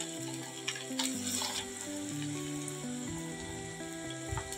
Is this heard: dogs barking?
no